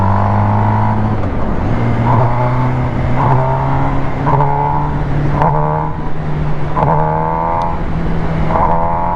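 A 2022 MV Agusta Brutale 1000RS motorcycle engine accelerates in uneven, jerky surges, rising repeatedly in pitch as it pulls through the gears, loud and continuous with no talking.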